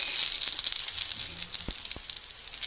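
Alu vadi, taro leaf rolls, roasting crisp in a pan over a wood-fired stove, giving a close, steady, hissing sizzle with a couple of sharp pops and crackles and no voices.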